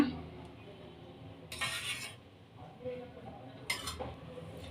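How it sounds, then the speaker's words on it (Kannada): A spoon stirs thick curd into cooled milk in a metal pot, giving two distinct bursts of scraping and clinking against the vessel amid a quiet kitchen background. "ಈಗ ಮಿಕ್ಸ್ ಮಾಡೋಣ"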